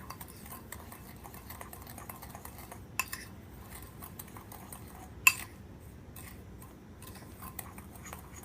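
A utensil stirring cinnamon into granulated sugar in a bowl, soft faint scraping with a few sharp clinks against the bowl, close and quiet, no speech.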